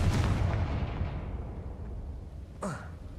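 Confringo fire-blast spell in Hogwarts Legacy: a single sharp blast at the start that rumbles and fades over a few seconds, followed by a brief whooshing crackle near the end.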